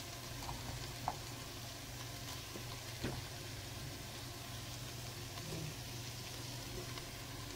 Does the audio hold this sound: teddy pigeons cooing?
no